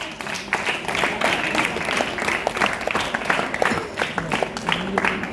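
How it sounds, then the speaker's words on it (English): A crowd at a high school English club event claps steadily together, a dense patter of many hands applauding without pause. "Please applause them"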